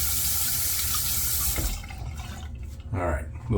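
Water runs from a tap at a bathroom sink during a wet shave, a steady hiss that cuts off partway, followed by brief splashing and dripping sounds.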